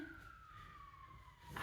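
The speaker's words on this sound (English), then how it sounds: "Got our friends, the sirens outside." An emergency siren outdoors, faint and distant, its steady tone gliding slowly downward beneath a low hum of room or street noise.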